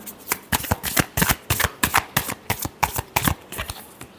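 Tarot cards are shuffled close up in a quick, rhythmic series of crisp riffling bursts, roughly a dozen over several seconds, with no voices.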